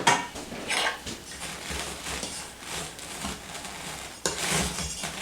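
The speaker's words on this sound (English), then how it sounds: "here's the butter. I'm gonna mix that." Butter is mixed into an apple crisp crumble topping in a bowl, giving steady scraping, clinking utensil-on-dish sounds with brief louder scrapes, close and continuous without talk.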